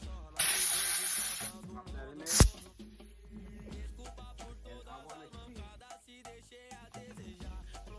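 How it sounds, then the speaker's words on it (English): A pressure washer gives a loud hissing burst of spray onto a car's surface for about a second, then another short blast, while music plays underneath throughout. "my pressure washer, because we want to keep the surface wet"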